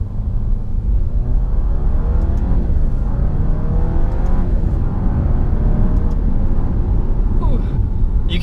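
A 2017 Alfa Romeo Giulia Ti accelerates hard in first gear in dynamic mode, its engine droning loud and close from inside the cabin as the pitch climbs steadily through the pull.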